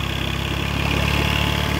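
Yamaha 25 hp four-stroke outboard engine idling up close, a steady, even throb with a fast regular pulse, loud and alone without voices.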